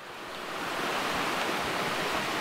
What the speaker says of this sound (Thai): บริเวณภูเขาที่มีลำธารไหลลงมาแล้วก็ต้นกำเนิดของแม่น้ำน่าน